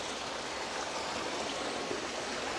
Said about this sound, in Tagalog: Ito yung Maywaga Falls number 2.